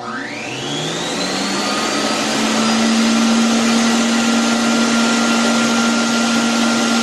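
A Lemmer T-75q HVLP turbine spray gun spraying water at speed 1, a steady loud whirring drone that climbs in pitch over the first seconds, then holds a constant tone with airy hiss and no talking.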